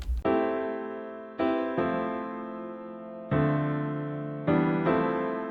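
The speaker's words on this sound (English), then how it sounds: "this is the chord progression, and all of these chords are 7th chords" An ambient progression of 7th chords played in FL Studio, five sustained synth chords struck one after another, each ringing and slowly fading, with no voices.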